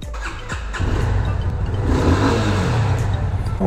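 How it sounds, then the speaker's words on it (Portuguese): A motorcycle engine cranks briefly, then catches and settles into a loud, steady idle close by. "Começando pelo verbo ligar a moto."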